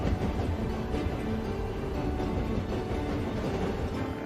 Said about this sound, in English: my train is coming into Sacramento.